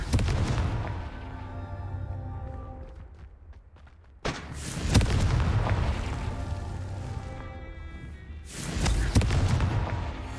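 Confringo fire spells burst in Hogwarts Legacy as loud, booming explosions, two sharp blasts that each roll into a long rumbling decay.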